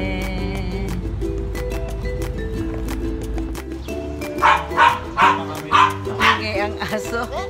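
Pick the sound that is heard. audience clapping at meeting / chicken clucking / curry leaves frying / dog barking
dog barking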